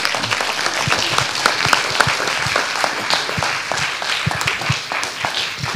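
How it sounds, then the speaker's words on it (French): Audience applause for a speaker after a talk on tourism and territorial marketing, sustained clapping from a sizeable crowd with distinct sharp individual claps standing out in the steady wash, loud and close for the whole stretch. "on peut encore l'applaudir"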